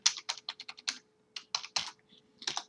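Password being typed on a computer keyboard during a SQL Server 2022 setup on Ubuntu Server 20.04: a quick run of close, crisp key clicks, a short pause, then a few more keystrokes.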